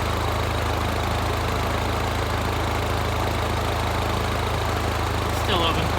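An R56 Mini Cooper S engine idling during a coolant flush and bleed makes a steady, rough mechanical drone with a constant low throb, running unbroken and close throughout.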